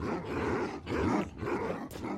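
Minecraft wolves growl and snarl in rough, rumbling bursts, fairly close, in a short, continuous run broken by brief pauses, with no speech.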